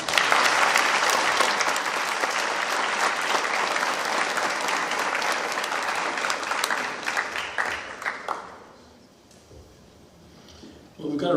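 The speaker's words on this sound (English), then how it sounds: "So can we give everybody a round of applause?" A school board meeting audience breaks into loud, sustained applause for about eight seconds with a few voices mixed in, then the clapping thins out and fades to near silence.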